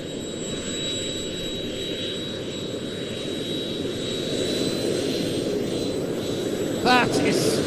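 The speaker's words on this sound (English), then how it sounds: "Rich Goodwin is taxiing on the jets alone." An airshow aircraft with its Lycoming 540 piston engine shut down taxis on its jet engines alone, a steady broadband jet roar with a high whine holding throughout, while a commentator talks over it.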